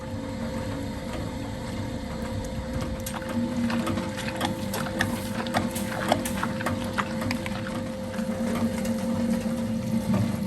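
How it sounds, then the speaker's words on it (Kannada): A wet grinder churns soaked rice with water into a coarse batter, making a steady mechanical drone with rapid rhythmic clicking and knocking throughout, close and fairly loud. "ಅಕ್ಕಿ ಒಳ್ಳೆ ರೀತಿಯಲ್ಲಿ ಗ್ರೈಂಡ್ ಆಗ್ತಾ ಉಂಟು"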